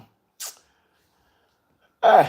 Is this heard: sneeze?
yes